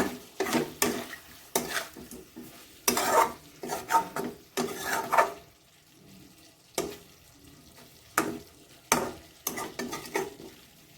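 Cauliflower roast being stirred in a pan, vegetarian Bengali-style phulkopi: repeated bursts of scraping and clattering stirring over a soft sizzle, close and fairly loud, with brief quiet pauses between strokes.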